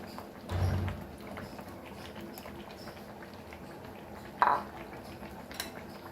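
Onions and butter get stirred in a pan, two distinct clanks of a utensil against the metal over a quiet low bubbling background, with no talk.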